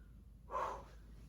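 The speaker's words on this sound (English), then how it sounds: "My heart rate is up. I'm heavy breathing." One heavy breath out during a bodyweight workout, a short close exhale, fairly quiet and alone.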